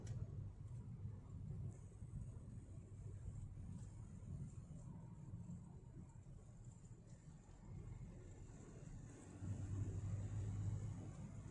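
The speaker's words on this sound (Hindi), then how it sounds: "इंजन की रोरिंग साउंड्स हैं" A Ford car's engine humming from inside the cabin while driving, a low, steady rumble with faint road and wind noise, fairly quiet and swelling slightly near the end, no one speaking.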